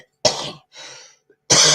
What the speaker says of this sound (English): I have had a little bit of a cough and a cold